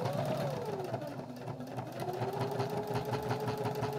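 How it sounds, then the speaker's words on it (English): A sewing machine runs a steady straight stitch through fabric for a beginner shower-curtain-ring ornament project. The needle beats in a fast, even mechanical rhythm, close and continuous, with no talking. "we're doing a straight stitch. I like to start with my needle down in my fabric, and then we're stitching all the way from one end to the other."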